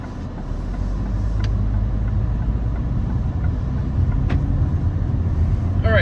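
A 2024 Alfa Romeo Tonale Veloce driving on the road, heard from inside as a steady, loud low rumble of engine and road noise that holds evenly throughout, with no talking.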